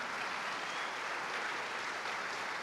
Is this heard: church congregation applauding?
yes